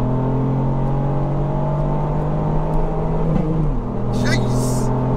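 A Revo Stage 2 Ford Fiesta ST accelerating hard in second gear, its engine drone rising steadily toward the red line before a brief dip as the revs change, heard loud from inside the cabin.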